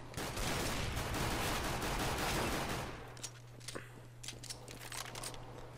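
A dense burst of rapid gunfire in CS:GO fills the first three seconds, then drops to scattered, quieter shots and clicks over a steady low hum.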